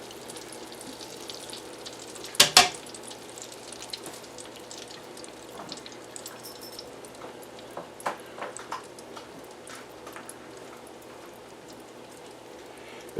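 Cornmeal doughnuts from an 1893 recipe fry in hot oil at about 350 degrees, giving a steady, soft sizzle and bubbling hiss with a few sharp pops and crackles, fairly quiet and close.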